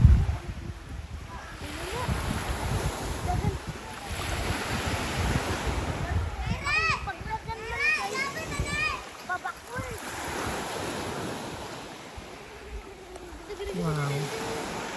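Sea waves wash onto a white-sand beach at a cove on Samal Island, a steady rushing surf with wind buffeting the microphone, while a person's voice rises in short bursts over the water noise.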